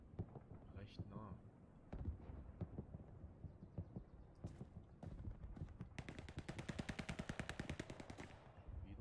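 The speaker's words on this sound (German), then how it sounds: "es kamen Schüsse" Rapid automatic gunfire rattles in a World War II shooter set in the Hürtgen Forest, sporadic shots early then a sustained burst, moderately distant and under a player's voice.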